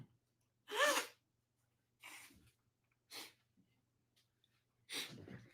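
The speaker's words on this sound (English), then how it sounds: "I got a flurry of sneezes" A close-up flurry of four sneezes, each a sharp burst with pauses between, recorded quietly over a faint steady hum with no speech.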